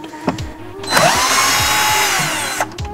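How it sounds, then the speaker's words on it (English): A power tool whirs steadily for about two seconds while undoing a bolt on a Jaguar XF, preceded and followed by short clicks and knocks of the tool against metal, close and loud. "So there's another bolt down here that we just need to undo as well."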